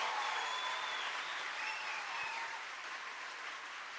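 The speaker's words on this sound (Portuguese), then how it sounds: "Agora dá uma salva de palmas para Jesus Cristo, porque Ele é." Congregation applauding at a church service, a soft, dense wash of clapping heard from a distance at a steady level, with a faint tone drifting over it.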